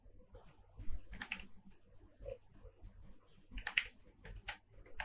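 Keys tapped on a computer keyboard while coding a web form, with irregular bursts of close, crisp clicks separated by short pauses.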